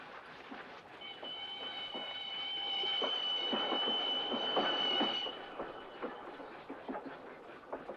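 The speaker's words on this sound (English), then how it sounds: "You see, the train doesn't stop at Tucumcari." A passenger train from a 1965 western runs steadily past, with rhythmic wheel clatter over rail joints and a sustained high metallic squeal, loud and close, with no voices.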